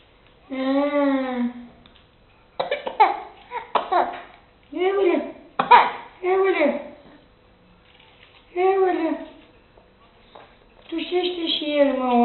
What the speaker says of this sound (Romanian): Tușește și el, mă, om mare.